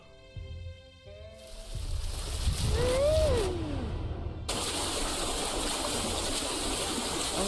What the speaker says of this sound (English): A loud sound of falling water, like a waterfall, suddenly disrupts the silence of the night.